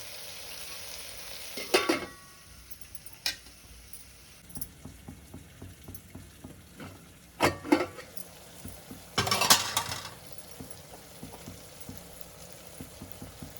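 Ingredients for bommidala pulusu, an eel fish stew, cook gently in a little oil over a low flame, with soft sizzling broken by spoon stirs and clinks against the pan, including a few louder scraping bursts.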